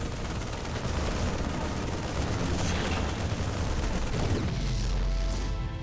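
StarCraft II photon cannons and other units fire in a dense, continuous barrage of booming, crackling blasts during a cannon rush match, loud and sustained with no clear gaps.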